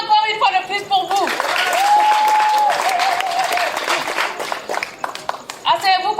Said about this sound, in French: Acclamez encore une fois de plus pour vous.